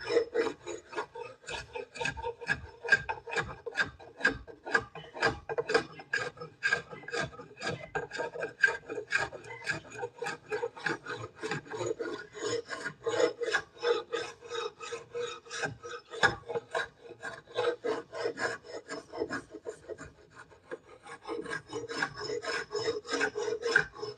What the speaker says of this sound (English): Just basically taking the varnish off it.